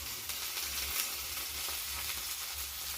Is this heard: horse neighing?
no